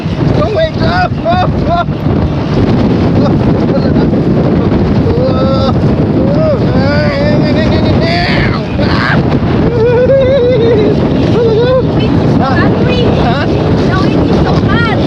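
A speedboat off Bangsaen Beach pounds through strong wind and waves with a constant loud roar of wind buffeting and engine noise. Voices and excited shouts come through the din.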